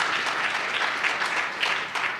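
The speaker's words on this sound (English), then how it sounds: "let's clap it up for that" Audience applause at a panel discussion on public defense in Illinois: a crowd clapping steadily for a couple of seconds with slight swells, fading a little at the end.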